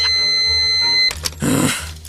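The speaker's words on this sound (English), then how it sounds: "Leave a very short message after the beep." A single sustained electronic tone from an answering machine sounds clearly for about a second, followed by brief clicks and a short burst of noise.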